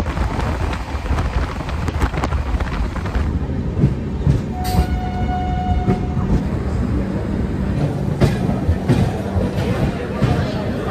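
An express train pulls into Kharagpur railway station, heard from inside an air-conditioned carriage as a loud, steady rumble and rattle that runs throughout, with a brief high tone partway through.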